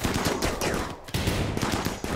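Rapid bursts of gunfire from a firefight in the video game RimWorld, dense overlapping shots with a brief lull midway, loud and close throughout.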